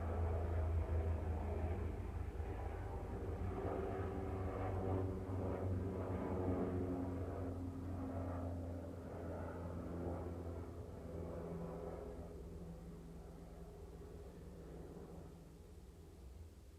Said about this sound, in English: the only thing you can hear is that fucking plane